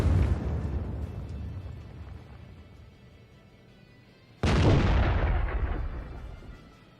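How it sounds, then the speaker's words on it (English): Two loud booming shots from an M41 HMC howitzer firing HEAT rounds in a tank video game, the first decaying slowly before a second sharp blast rings out and fades over a couple of seconds. "He is firing at it. No, that just hit the ground. So that's a rather expensive round."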